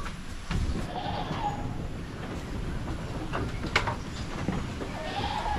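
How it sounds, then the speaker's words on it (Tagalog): Goats bleat in a crowded farm pen, several calls rising over a steady background of rustling and shuffling, fairly close and moderately loud throughout. "Kailangan po natin magbawas sa ating mga kambing dito kung mga anak na yung mga inahin natin."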